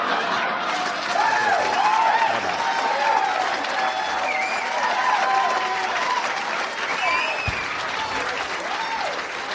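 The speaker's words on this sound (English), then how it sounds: "Big round of applause, Pat Paulsen for" Sustained applause from a comedy show audience for comedian Pat Paulsen, steady clapping mixed with scattered chuckles and crowd murmur, while a voice carries on faintly under it.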